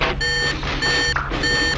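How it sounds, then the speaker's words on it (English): Vehicle warning beeps in a cartoon-style scene, sounding as three loud, evenly spaced electronic tones with short gaps and a low engine hum underneath. "What is that beeping in my ears?"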